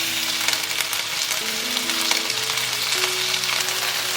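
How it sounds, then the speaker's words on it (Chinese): Chicken wings pan-frying in a dry wok with no oil yet, a steady broadband sizzle running throughout beneath a soft, sustained melodic background tone. "接着先干锅，把鸡翅表面的水分煎干"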